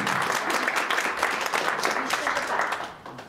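A crowd applauds for Kinga Szczepanek at a public meeting, dense clapping from many hands that fades toward the end.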